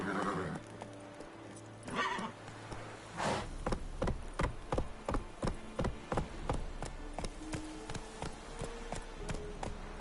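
A horse in The Witcher 3 whinnies, then breaks into a gallop, with rapid, regular hoofbeats pounding close by over a low ambient bed.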